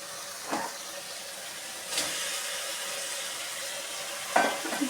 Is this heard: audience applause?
no